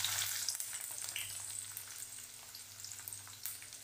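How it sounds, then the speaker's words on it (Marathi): Chopped onion fries with garlic and green chillies in oil, a close, steady sizzle with soft crackles and a low hum in the background, no talk. "कांदा चांगला खरपूस भाजून घ्यायचा."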